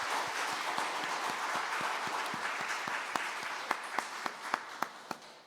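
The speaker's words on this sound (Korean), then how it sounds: "우리 모두를 위해서 격려의 박수 한번 합니다" A church congregation at an early-morning prayer meeting breaks into sustained applause together, a dense wash of clapping from many hands with a few louder, sharper claps standing out near the end.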